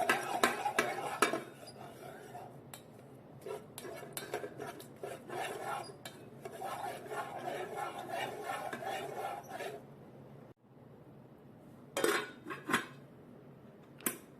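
Biryani rice with spices and bay leaves being stirred in a metal pot, with busy scraping and clinking of a spoon against the pan running through most of the clip, pausing briefly, then a few louder knocks near the end.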